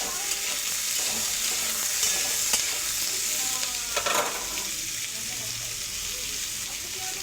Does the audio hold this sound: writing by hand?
no